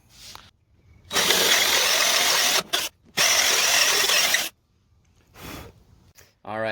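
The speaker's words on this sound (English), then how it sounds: "And then you flip it over and drill from the other side." A power drill with a Forstner bit whirs loudly into wood in two long bursts, with a short pause between them, followed by brief quieter mechanical sounds.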